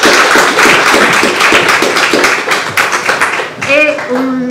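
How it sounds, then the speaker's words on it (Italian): Audience at a museum reading event claps in a brisk burst that fades out, then a voice begins speaking at the end. "in particolare a Sandra Bedetti, a cui prego di fare un applauso perché è qui."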